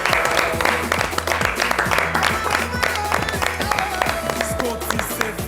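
A studio audience applauds loudly and steadily at a talk show, with clapping and crowd noise filling the room and voices mixed in underneath.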